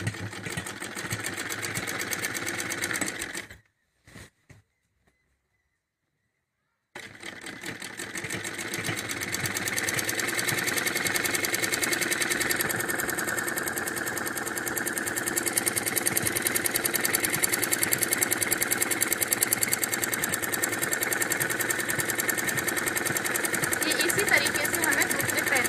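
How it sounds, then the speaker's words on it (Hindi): Sewing machine stitching salwar fabric, a continuous fast mechanical whirring close by that pauses briefly for a few seconds of silence and then resumes steadily, with a voice talking over parts of it. "कपड़े को बराबर करेंगे और फिर सिलाई लगाएंगे।"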